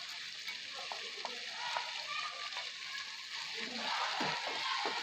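Kadhi seasoned with garam masala and coriander is stirred in a pot on the stove, giving a faint bubbling sizzle and soft scraping motions that grow slightly busier toward the end.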